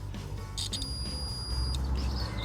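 A multimeter's continuity beep sounds during a test of a VW bonnet latch switch, showing as a steady high tone of about a second amid faint handling noise and low hum, with no voices.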